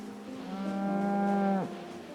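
A single drawn-out cow moo from the video game Project Zomboid, loud and clear, rising and then falling off sharply with nothing else around it.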